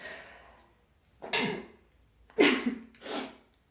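Two sharp, close sneezes after a soft intake of breath, each a loud explosive burst followed by a brief pause.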